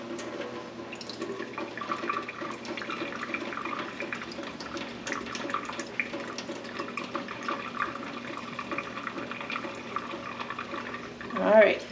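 Tap water runs steadily while sprouts are rinsed, a soft continuous splashing stream with a faint hum beneath, swelling briefly in a louder gush at the end.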